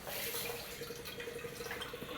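Crystal vodka pours steadily into a metal pot, a continuous splashing trickle with faint dripping, close by and without talk.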